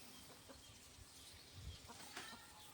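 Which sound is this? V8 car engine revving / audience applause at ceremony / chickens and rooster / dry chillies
chickens and rooster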